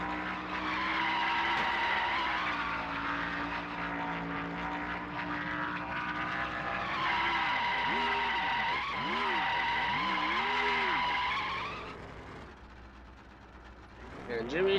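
NASCAR Winston Cup race cars roar through the last lap at Las Vegas, engines droning loud and steady with rising and falling pitch sweeps as cars pass, then the noise fades away near the end.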